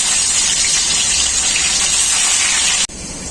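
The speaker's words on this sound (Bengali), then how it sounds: "বাকি মাছগুলো আমি একইভাবে ভেজে নেব।" Fish frying in hot oil in a home kitchen, a steady loud sizzle and crackle that holds evenly, then dips sharply for a moment and resumes.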